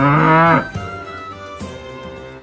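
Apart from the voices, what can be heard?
cow mooing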